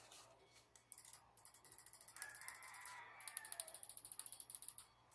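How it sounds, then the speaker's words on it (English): Sharp, clicky presses of the side buttons on an ASUS ROG Keris Wireless gaming mouse, quiet and close, starting sparse and then building into a fast run of crisp repeated clicks. "These are some nice clicky side buttons."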